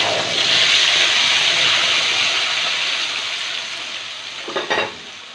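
Whole garam masala (cinnamon, cloves, cardamom) and a ground spice paste frying in hot oil for a katla fish kalia, with a loud continuous sizzle that slowly softens, then a short clatter near the end.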